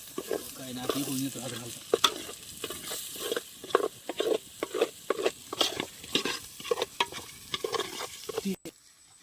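Fish sizzles and crackles in a hot pan of oil at an outdoor farm cookout, with close, steady frying and intermittent stirring or scraping clicks.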